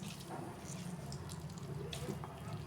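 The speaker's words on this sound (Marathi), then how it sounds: "ह्याच्यातलं मी जरा पाणी मोठं मोठं पिळून घेत आहे" Water is squeezed by hand out of grated bottle gourd for doodhi halwa: a faint, continuous trickle and drip into a bowl, close by and quiet.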